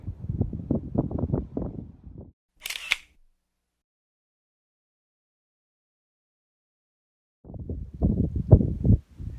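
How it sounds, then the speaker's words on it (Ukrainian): Strong gusts of wind batter the microphone in low rumbling bursts at the start and end, separated by a sharp click and a long silence, at the water's edge on the Dnipro river. "Вітер несамовитий, друзі"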